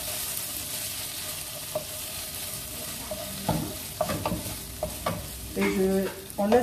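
Minced meat filling with cheese stirred in a hot pan with the heat switched off: soft scraping strokes and light sizzling, the stirs growing more frequent and louder toward the end.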